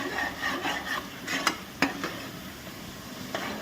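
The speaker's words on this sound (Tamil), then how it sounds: "கொழுப்பை நல்லா வதக்கி விட்டுருங்க" Mutton fat frying and being stirred in a pot for mutton kulambu, with a steady close sizzle broken by a few sharp scraping strokes of the spoon.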